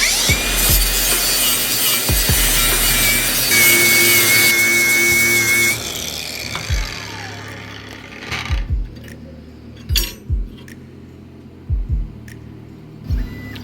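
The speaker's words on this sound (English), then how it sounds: "This is a AR-AG95 20 volt grinder. And just grind away." Arccaptain AR-AG95 20-volt battery angle grinder working metal, a loud continuous whine for several seconds that cuts off, followed by scattered clanks and knocks of handling.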